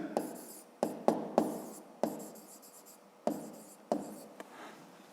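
Pen writing by hand while working a 5th-grade maths exercise, a series of crisp scratching strokes and taps with short pauses between them, close up and fairly quiet.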